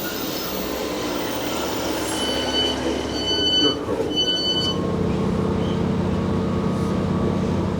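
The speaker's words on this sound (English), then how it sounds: "There's the train there." A train on the Buxton Line rumbles by with steady wheel noise and faint squeal, then settles into a lower continuous drone; a voice talks briefly over it.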